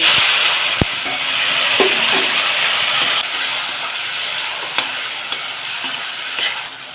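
Tomatoes frying in hot oil with curry leaves and asafoetida for a stuffed bitter gourd curry, a steady loud sizzle close by with a few soft stirring knocks.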